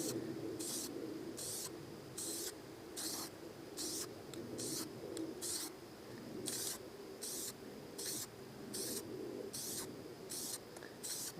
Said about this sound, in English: I'm not going to be spraying the inside of the helmet